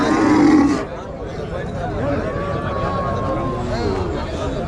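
A cow lows loudly at a busy rural cattle market in Tirupattur district, one deep moo at the start, followed by steady crowd bustle and nearby voices talking.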